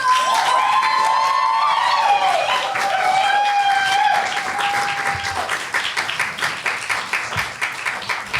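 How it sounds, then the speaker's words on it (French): Audience applause and cheering welcoming the first speaker onto a stage at an evening event, a dense sustained wash of clapping with whoops and tonal shouts over the first seconds, thinning into more distinct claps toward the end. "je vous demande de faire un tonnerre d'applaudissements pour accueillir notre première intervenante"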